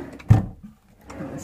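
A bedroom drawer slides with one short, solid thump and rattle, followed by quiet and then faint handling noise.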